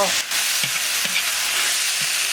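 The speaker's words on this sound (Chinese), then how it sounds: "猪肉上的水分收干，下入木耳炒。" Pork stir-fries with wild black wood ear mushrooms in a wok. It gives a loud, dense, continuous sizzle, broken by a few soft knocks of the spatula, with no talking.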